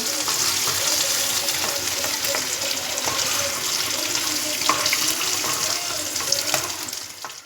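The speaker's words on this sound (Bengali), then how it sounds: "এরপর আমি দিয়ে দেব তেজপাতা দারচিনি লবঙ্গ এলাচ" Bay leaf, cinnamon, cloves and cardamom fry in hot oil with a dense, continuous sizzle, nearby and fairly loud, with scattered clinks and scrapes of stirring throughout.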